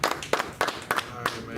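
A group at a brotherhood class in Harlem claps in a loose rhythm, a handful of sharp, close claps spaced unevenly, with talk mixed in.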